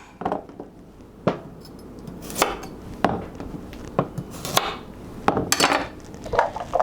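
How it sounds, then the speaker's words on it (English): A kitchen knife chops the tips and heads off carrots: a dozen or so sharp, irregular thunks on a cutting surface, spaced unevenly and heard close up with no talk. "for these carrots, I like to chop off the tips and chop off the heads"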